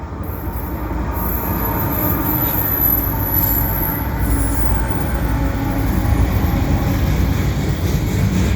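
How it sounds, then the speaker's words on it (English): A CN freight train rolls past the Dorval ramps in Montreal, a loud, steady rumble of wheels and railcars with faint high squeals, heard from an elevated spot with no pause in the noise. "I got a CN freight coming through at the Dorval ramps at a high location"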